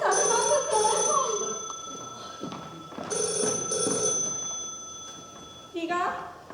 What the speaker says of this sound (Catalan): Està sonant el telèfon.